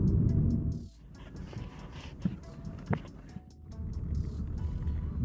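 A Yandex taxi car driving through Astana at night, with a low road and engine rumble that dips midway, a few soft clicks and knocks inside the cabin, and a faint indicator-like ticking.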